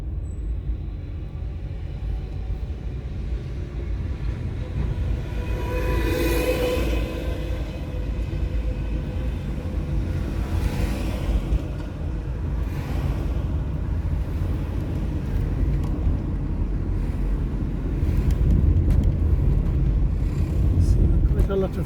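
Road traffic in Halifax heard from inside a moving car, a steady low rumble with vehicles swelling past now and then, growing louder toward the end.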